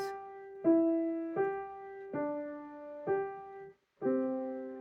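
A piano chord struck repeatedly, about six times, each ringing smoothly into the next with the pace gradually slowing; no talking.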